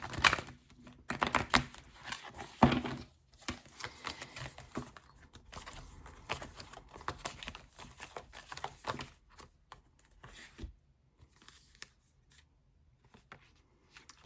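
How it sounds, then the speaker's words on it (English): A deck of tarot cards shuffled by hand close up, in intermittent bursts of crisp riffling and papery snapping separated by brief pauses, with no talking. "let's do a shuffle"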